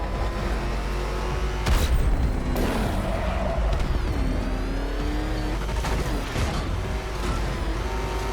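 The Batmobile in Batman: Arkham Knight races hard, its loud engine roaring and shifting pitch throughout, with booming crashes, skids and impacts layered on top of the continuous drive.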